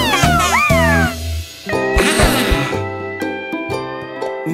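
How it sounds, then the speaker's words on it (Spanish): Cartoon cat meows loudly several times, rising and falling voiced cries, mixed with bright animated-show music and effects. "¡Miau!"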